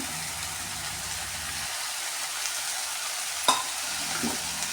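Ridge gourd curry with soaked chana dal and red chilli powder is stirred in a hot pan, giving a steady sizzle and frying hiss, soft scraping, and one sharp spoon clink near the end.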